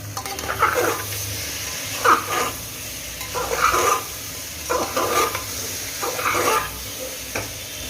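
Hilsa fish heads stirred into cooked-down spice masala in a pan, with repeated scraping stirs every second or so over a soft continuous sizzle, close by.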